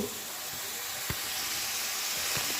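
Steady hissing sizzle of greens frying in a hot pan, with a couple of soft knocks from stirring, continuous and close.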